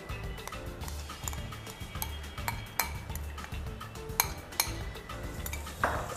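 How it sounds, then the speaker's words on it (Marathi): Soaked rice is sautéed in hot oil in a pressure cooker, with a spoon scraping and clinking against the metal pot at irregular intervals over a faint background. "तांदूळ आपल्याला तेलामध्ये परतून घ्यायचं आहे"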